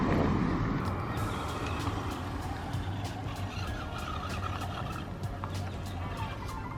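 A car drives past on a muddy outdoor road, a continuous close rumble with tyre noise that stays loud throughout, with no clear talk over it.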